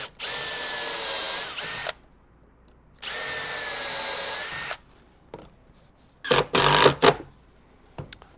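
A power drill driving screws into a wooden guide rail on a dado routing jig: two sustained whirring runs, then a short burst of stuttering bursts as the screw seats, with quiet pauses between.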